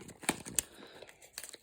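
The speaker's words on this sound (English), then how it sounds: "Then you fold it and bin it again." A peeled sticky label from Ankara fabric being folded and binned: a few close, brief crinkles and crackles of paper in under two seconds, quiet and without talk.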